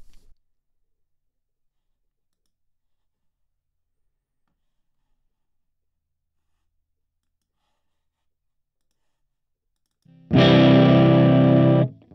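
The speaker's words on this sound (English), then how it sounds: "Let's add an amp simulator to this guitar to make it sound like it's been played through an amp." Electric guitar run through an amp simulator plugin in Logic Pro, heard as one loud, distorted chord that bursts in near the end after a long silence and rings for about two seconds before cutting off.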